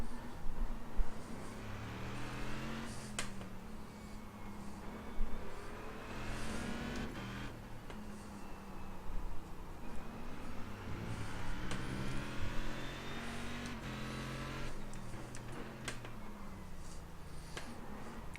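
A Corvette race car in the iRacing sim at Okayama roars through its gears, the engine rising and falling in pitch as it accelerates out of corners and brakes into them, steady and loud with no talk.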